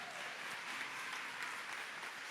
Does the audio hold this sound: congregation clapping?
yes